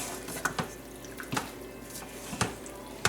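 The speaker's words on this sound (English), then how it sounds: "now we're going to add 1/4 a cup of water" A quarter cup of water goes into taco soup with seasoning mix in an Instant Pot pressure cooker, heard as a handful of close, sharp splashes and drips spaced unevenly over a quiet kitchen background, with no talking.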